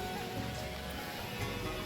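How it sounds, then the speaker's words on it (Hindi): Light rain falling steadily, heard from a house rooftop in the hills of Gauchar, a dense even hiss with faint patter, soft and continuous throughout. "कितनी बारिश हो रही है अभी"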